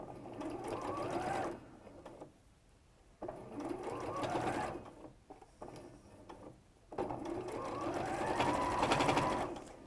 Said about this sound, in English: you could zigzag tack stitch this because you want to be within the seam allowance.